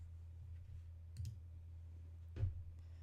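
A computer mouse clicks a few times, faint single and doubled clicks spaced over a few seconds against a low steady hum, with no talking.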